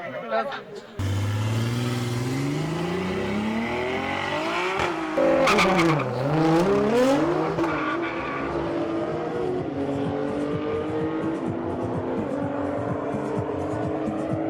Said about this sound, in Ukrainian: Найпотужніші, найшвидші машини на сьогодні.